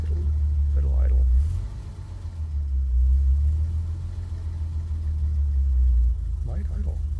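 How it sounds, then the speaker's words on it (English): An old 6-volt positive-ground car engine idles after a cold start in deep snow, a low steady rumble up close, with people talking briefly over it. "Oh, it's idling. She's idling."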